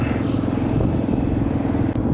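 Motorcycle riding along a main road in Thailand, a steady close engine rumble with road noise holding at an even level throughout, no talking.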